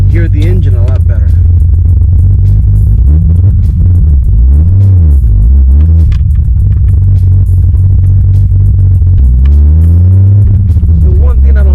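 A 1990 Toyota Supra Turbo MK3 engine runs close and loud, a deep rumble with several rising and falling rev swells, under continuous talking.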